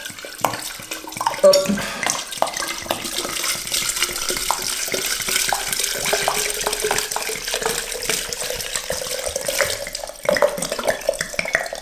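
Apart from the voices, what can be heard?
water poured from a tap into a jar for fruit kefir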